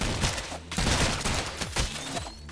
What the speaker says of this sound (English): That is a rapid-fire cannon you got there.